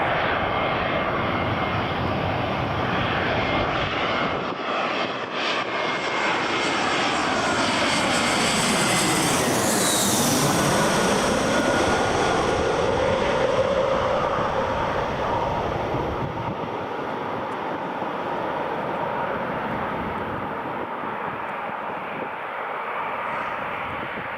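A Eurowings airliner passes at Newcastle International Airport, its jet engine roar building steadily, peaking loud overhead with a sweeping pitch change around the midpoint, then receding into a long, steady rumble.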